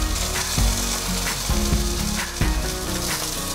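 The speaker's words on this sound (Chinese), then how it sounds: "放入适量的油，茄子放进来" Eggplant sizzles steadily in hot oil in a pan, a dense crackling fry broken by a few soft thumps as pieces are moved, with no voices.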